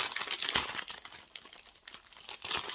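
A clear plastic stamp is peeled and unwrapped from its crinkly plastic packaging, giving close, irregular bursts of crackling and rustling with brief pauses between them.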